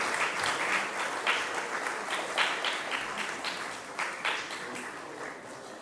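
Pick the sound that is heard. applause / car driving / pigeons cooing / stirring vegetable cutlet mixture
applause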